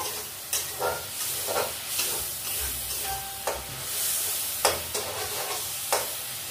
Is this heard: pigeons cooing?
no